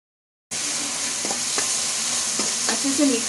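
Pav bhaji masala with Kashmiri red chilli fries in oil in a pan, a loud continuous sizzle that starts abruptly, broken by a few scraping stirs.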